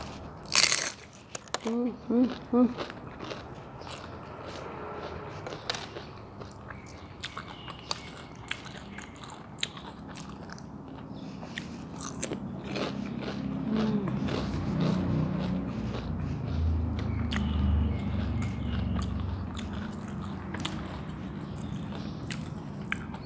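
Crisp crunching bites into freshly fried homemade spring rolls filled with glass noodles, shiitake mushroom, cabbage and minced pork, a few sharp bites up close followed by steady chewing, with a voice talking over parts of it.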